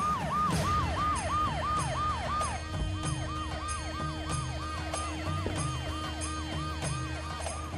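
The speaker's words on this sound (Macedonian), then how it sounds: "Амбулантното возило кој излезе се враќа заедно со оклопно војничко возило." Ambulance siren wailing in a steady repeating rise-and-fall cycle, loud and close over a low rumble of traffic or engines, with no talk.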